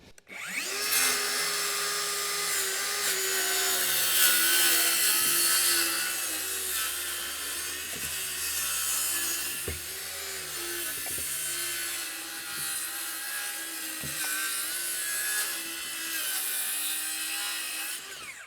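A circular saw runs steadily through wood along a chalk line for a garden shed, a continuous loud whine with a few brief knocks and bumps as the blade advances.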